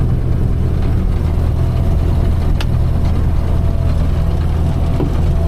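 A combine harvester's diesel engine runs at a steady, low rumble around 2,000 RPM during harvest, loud and continuous with no pauses, and no one speaks over it.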